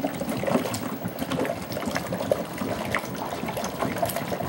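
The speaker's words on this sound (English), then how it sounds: "And here's the bubbling." Water bubbling steadily inside a large homemade HHO generator running at high voltage and current, a dense continuous fizzing and gurgling wash that stays even and close throughout, with no voices.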